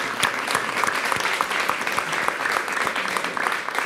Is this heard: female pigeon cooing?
no